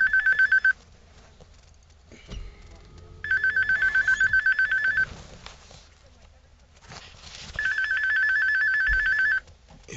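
A phone ringtone rings in repeated bursts, three loud, close electronic ringing stretches separated by quieter gaps with faint background noise and movement.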